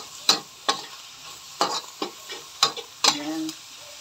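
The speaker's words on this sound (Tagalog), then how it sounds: "isusunod natin yung may leftover kaming rice kagabi. So yun na lang ang fried rice ko dito." Spatula scraping and stirring leftover rice in a pan as fried rice cooks, with a steady soft sizzle and about eight sharp scrape strokes spaced irregularly, close and fairly loud.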